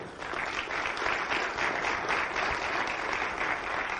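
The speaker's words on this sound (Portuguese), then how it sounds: "Por favor, uma salva de palmas aqui para o meu amigo." Steady, even applause fills the room from an audience at an Amway business event, sustained without a break.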